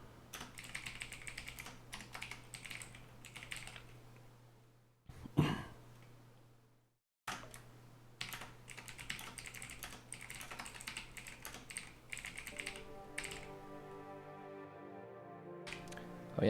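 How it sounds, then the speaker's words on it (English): Rapid typing on a computer keyboard while installing and configuring Netlify CMS, steady clattering keystrokes throughout with a brief pause midway and a few coughs or throat clears mixed in. "Oh yeah, same here. Typing everything."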